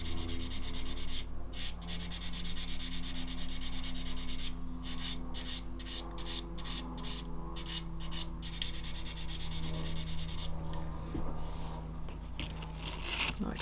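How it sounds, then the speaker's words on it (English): Sandpaper rubs back and forth over a seam on a plastic model, producing a continuous close scratchy texture with rhythmic strokes over a steady low background hum. "all I'm doing is sanding it just enough to remove the previous sanding scratches"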